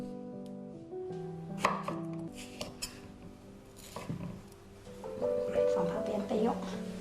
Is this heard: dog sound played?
no